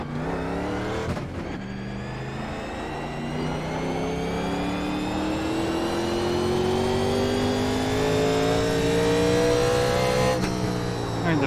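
Sim-racing NASCAR 1987 Legends stock car lapping North Wilkesboro in iRacing, its engine droning steadily and rising in pitch through a long acceleration, with a brief shift dip early and another near the end, loud and continuous without talk.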